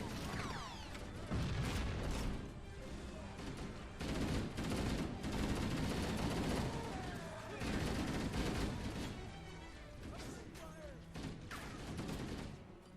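Sustained gunfire and explosions in the Halo: Combat Evolved video game, dense bursts of rapid shots and booms layered over a soundtrack, with speech in the mix.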